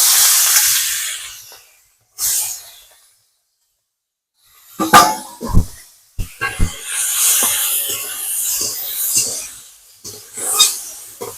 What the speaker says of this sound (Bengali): মাছটা আমি আগে ভেজে নেব ভালো করে